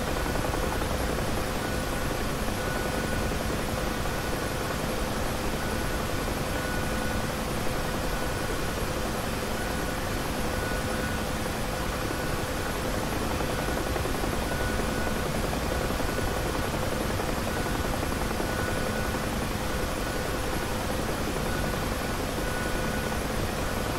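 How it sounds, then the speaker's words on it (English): A Bell UH-1 Huey helicopter from the flight simulator DCS drones steadily in flight, a loud, constant rotor and turbine roar filling the whole span with no break and no voices. "Mr. Larkin, do you have proper control of the helicopter?"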